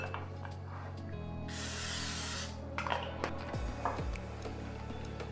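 A cooking-oil sprayer hisses over cut plantain pieces for an air fryer, one loud spray burst lasting about a second and a half, followed by a few soft handling knocks and rubs.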